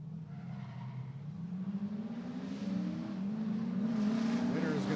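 A drift car swings hard into its initiation at a drifting event, the engine note rising steadily while the tyres skid with a building roar, loud and continuous throughout.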